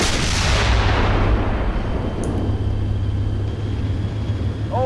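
Tank cannon fires in the Steel Beasts combat simulator, one heavy booming blast at the start that decays into a long rumbling tail over a constant engine drone.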